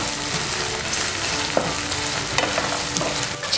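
Tomato pieces sizzle in hot oil in a pan while paneer biryani is being made, a steady, loud crackling fry with a few faint stirring scrapes and no talk.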